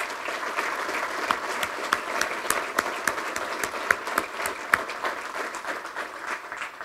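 Audience at a county State of the County address breaks into sustained applause, a dense wash of clapping lasting several seconds with a few sharper claps standing out.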